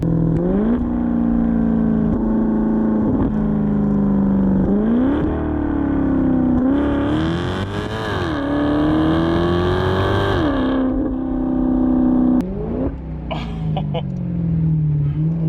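A powerful Maserati GT engine revs up and down repeatedly, rising and falling in pitch, with sharp crackling pops from the exhaust near the end.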